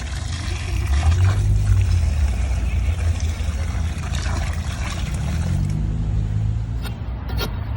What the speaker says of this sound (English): So we pour some water in,